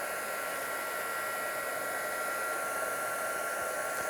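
A heat embossing tool blows hot air onto an embossed design, giving a steady, loud, close-up hiss and whir that holds unchanged throughout with no talking.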